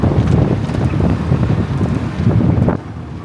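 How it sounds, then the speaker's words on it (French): A mountain torrent at the Col du Galibier rushes in a steady, loud broadband roar, with gusty wind buffeting the microphone throughout before easing slightly at the end. "il y a le torrent là"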